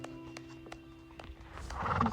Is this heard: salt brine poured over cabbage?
no